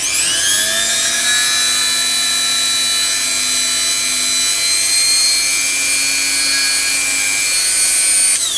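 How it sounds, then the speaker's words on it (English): A drill bores a hole in a resin model part, giving a steady, loud, high whine that holds evenly for several seconds, with no speech. "And then, patiently and slowly, let's drill the hole in here first"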